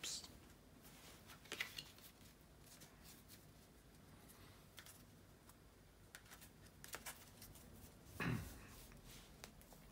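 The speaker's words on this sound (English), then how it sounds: "bear with me just a second, guys, to shuffle the tarot cards" Tarot cards being shuffled by hand in a quiet room, with soft scattered riffles and taps, a louder burst of card handling near the end and faint rustling between.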